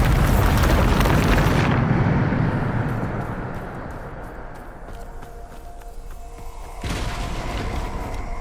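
A Bombarda blasting spell in Hogwarts Legacy, a loud rumbling explosion that roars for about two seconds and fades into debris and ambience, followed by another rising burst of noise near the end.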